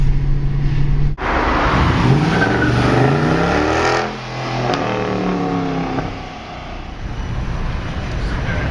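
Car in sport mode pulling hard, its engine note climbing through rising revs with gear changes in between, recorded from inside the cabin and loud throughout.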